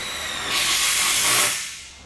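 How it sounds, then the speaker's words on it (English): A power tool driving self-tapping screws through a bracket into a greenhouse rail, heard as one close, hissing whir that swells for about a second and then fades. "they are screwing some self-tapping screws from the bracket into the rail"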